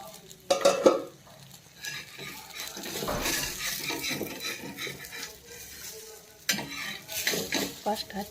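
Besan paratha fries in oil on a pan over low heat, a soft uneven sizzle punctuated by clinks and scrapes of utensils against the pan, moderately close and rising in bursts.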